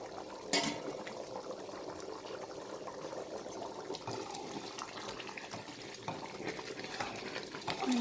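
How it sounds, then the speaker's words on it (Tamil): Rice bubbles at a steady rolling boil in a pot for beef keema biryani, a continuous soft gurgling hiss with a few louder pops, close and unaccompanied. "ரைஸ் போட்டதுக்கப்புறம் நல்லா கொதி வந்துருச்சு."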